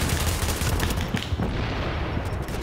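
Rapid gunfire in Tom Clancy's The Division on PS4 rattles as a dense, loud volley that thins slightly toward the end.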